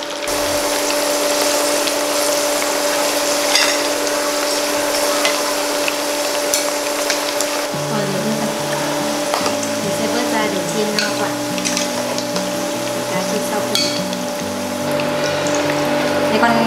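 Tteokbokki side dishes such as fish balls and sausages fry in oil in a pan, a continuous loud sizzle with scraping and stirring clatter, joined partway through by a lower bubbling hum.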